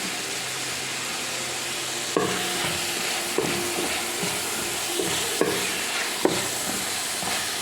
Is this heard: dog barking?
no